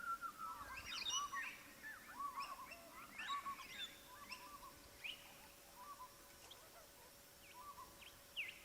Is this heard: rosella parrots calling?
yes